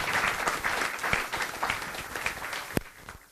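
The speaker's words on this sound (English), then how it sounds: "And now that you wildly applaud." Audience applause at a Madison Club political luncheon event, a steady wash of many hands clapping from a seated crowd, fairly close, with one sharper clap standing out near the end and no talking.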